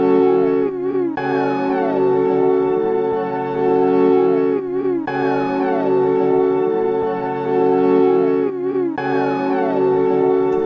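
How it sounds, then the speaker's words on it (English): Synth recording run through a Hologram Microcosm pedal, a dense, continuous wash of bending, glitchy tones with repeating swells and brief dips, steady and loud throughout with no talking. "This was a synth recording that I'd created and run through it"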